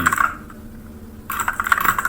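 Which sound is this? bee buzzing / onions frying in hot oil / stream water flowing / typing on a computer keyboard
typing on a computer keyboard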